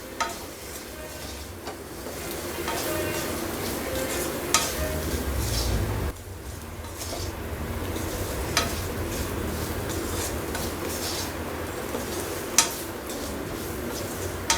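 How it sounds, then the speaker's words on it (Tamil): Egg chukka mixture is stirred in a pan with a utensil, giving steady scraping and light clinks against the metal over a soft sizzle, with occasional sharper knocks and no talking. "இப்போ நல்லா மிக்ஸ் பண்ணிவிடுங்க."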